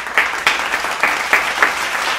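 Audience applause for a student singing group at a school spring arts showcase: a small crowd claps steadily for about two seconds, with a few sharper individual claps standing out above the wash.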